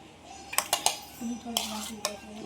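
A metal spoon clinks several times against a bowl while Maggi masala is added during a Maggi-eating challenge, the sharp taps coming in a quick cluster and then two more strikes, close and clear, with a faint hum beneath.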